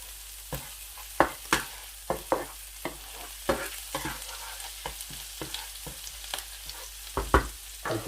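Ginger paste fries over low heat in a pan while a spoon scrapes it in rhythmic, distinct strokes. A quiet sizzle runs underneath, and nobody speaks.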